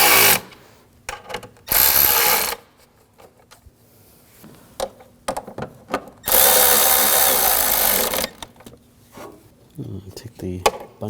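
A power tool tightens intake manifold bolts on a 2007-2013 BMW 328i with the 3.0L inline-six, running in two loud, sustained bursts separated by quieter shop clatter and brief talk.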